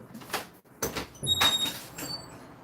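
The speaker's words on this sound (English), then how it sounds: "Okay, I'm gonna open this door." A door being opened indoors in a home, heard as a few close knocks and scraping movement with a brief squeak, fairly quiet and without talk.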